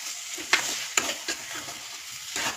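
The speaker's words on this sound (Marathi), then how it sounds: "एक वाटी साखर घालूया साखर एक जीव करून घेऊया" Semolina and sugar are stirred in cow's ghee for sweet sheera, giving a soft sizzle broken by a few sharp scrapes of the spoon against the pan, close and with no voices.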